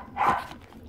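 A dog gives a single short bark, fairly faint, inside a quiet room.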